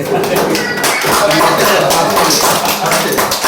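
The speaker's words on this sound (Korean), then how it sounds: "목사님한테 박수 한번 보내" A church congregation bursts into loud, dense applause during a Sunday service, the rapid clapping mixed with voices and calls throughout.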